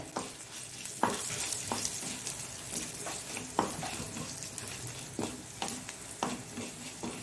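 Dried chilies, coriander seeds and cumin roast in a pan for a colocasia leaf gravy, sizzling steadily up close while a spoon scrapes and stirs in repeated strokes.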